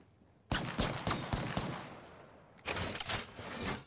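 Gunfire in the video game Apex Legends: a burst of several rapid sharp shots, a short pause, then another cluster of loud cracks, heard alone without talk.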